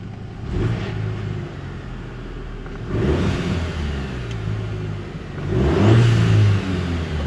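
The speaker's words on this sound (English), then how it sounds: "you can hear the turbo, bro. It's so much louder." A turbocharged 2023 Chevy Colorado LT pickup with a blow-off valve revs in three rising swells, each ending with a whooshing release. The engine drones close between the pulls.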